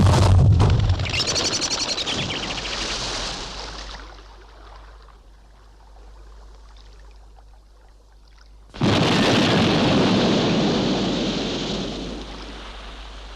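A weapon fires in the TV series UFO, a sharp blast at the start and then a roaring explosion that bursts in loudly after a quiet lull and slowly fades, with no talking.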